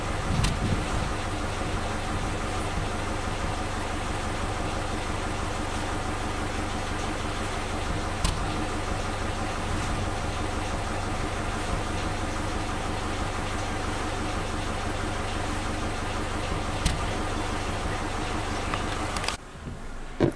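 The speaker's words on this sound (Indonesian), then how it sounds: "Ada suara nembak ya" A Suzuki Katana car engine idles unevenly in a steady, close mechanical drone, broken by occasional faint pops from misfires.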